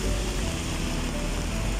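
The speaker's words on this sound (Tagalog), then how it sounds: "Lakas ng ulan." Dense, steady rain pouring down, a loud continuous hiss filling the whole moment with no pauses.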